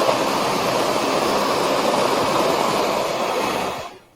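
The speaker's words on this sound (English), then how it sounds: "next we're going to turn on the blender, and I'm going to use our pulse just to kind of see" A blender pulses a protein shake with a loud, steady whirring roar that stops abruptly near the end.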